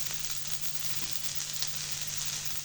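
Chicken pieces with ginger garlic paste frying in hot oil, giving a steady close sizzle and crackle throughout with no voices.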